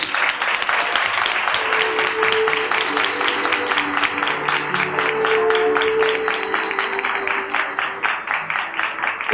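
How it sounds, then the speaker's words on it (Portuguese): A large audience gives a sustained burst of strong applause at a children's charity (ONG) event, dense rhythmic clapping loud and steady throughout, with faint voices beneath. "o meu respeito e o nosso amor através de uma salva de palmas bem forte"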